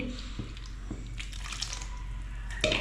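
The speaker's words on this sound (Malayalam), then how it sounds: "ഇതൊന്ന് കഴുകി ഒഴിക്കാം." Rinse water is poured into a clay pot of Kerala papaya curry, giving soft splashing and drips with a few light knocks, fairly quiet and close.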